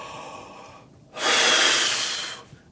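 A trumpeter lets out a single long, breathy exhale during a breathing exercise, close and loud, rising suddenly and fading over about a second, with quiet before and after.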